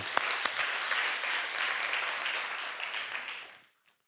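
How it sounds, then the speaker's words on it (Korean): Church congregation at a Friday evening prayer service clapping in praise, a dense burst of applause that continues for several seconds, then dies away into silence. "하나님께 영광의 박수, 하나님께 영광의 박수."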